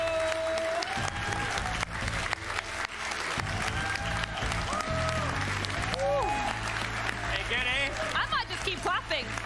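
Audience applause at the Xbox Gamescom 2019 showcase, a dense, steady wash of clapping from a crowd that continues throughout, with a voice talking over it.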